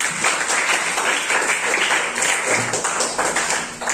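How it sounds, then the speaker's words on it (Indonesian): Applause from a classroom of students fills the whole stretch as a steady, dense patter of many hands clapping, moderately loud and continuous with no voices on top. "tepuk tangan untuk kita semua"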